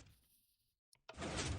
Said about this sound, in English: we have a 3x3 door.